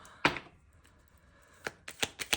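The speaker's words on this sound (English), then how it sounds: "All right, so we're going to shuffle both sides here." Tarot cards shuffled by hand in a reading, a sharp riffle burst followed by quiet, then several quick crisp card slaps and flutters close to the microphone, no talking.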